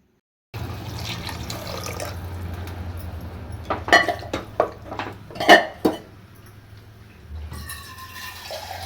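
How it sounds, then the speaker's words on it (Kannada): Water is poured into cooked egg biryani masala in a pot, a steady splashing pour broken midway by a few sharp clinks of vessel and utensil. "ನೀರು ಹಾಕ್ಕೊತಾ ಇದ್ದೀನಿ"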